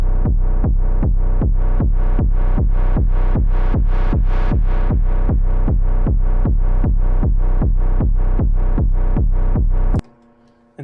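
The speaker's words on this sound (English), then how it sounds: "and we can add the kick to fill the hole" Eurorack modular synth voice pumping under sidechain compression, with a steady four-on-the-floor kick drum added beneath, about twenty-two loud regular beats in ten seconds, then it stops abruptly.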